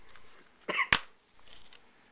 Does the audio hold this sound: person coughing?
yes